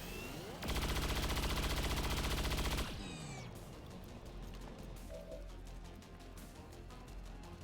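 Sustained automatic gunfire in XCOM (Long War of the Chosen mod) aimed at an alien relay: a loud, dense burst of rapid shots lasting about two seconds, then quieter scattered clicks and weapon effects.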